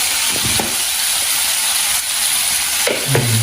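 Food sautés in a hot pan with a loud, steady hiss and crackle close by, with a few faint scrapes of stirring near the end.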